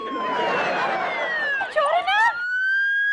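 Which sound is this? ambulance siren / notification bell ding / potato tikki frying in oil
ambulance siren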